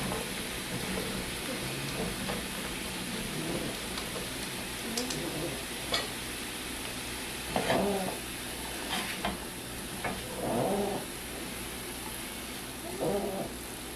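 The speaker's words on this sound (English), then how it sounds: "you want to pan fry them in the skillet first for, 10 minutes or so, or until they get a little bit soft" Green beans pan-frying in a skillet give a steady, dense sizzle throughout, with occasional stirring scrapes and faint voices underneath.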